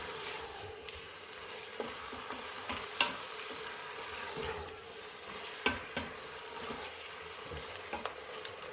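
Beef chili ingredients cook in an Instant Pot with a soft, steady sizzle, broken by occasional small taps and stirring knocks at irregular intervals. The sound is fairly quiet and close, and no one speaks.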